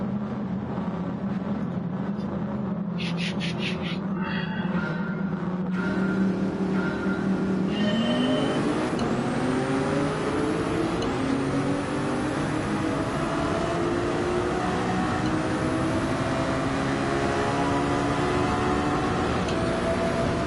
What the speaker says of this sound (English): These Ferraris launch so hard.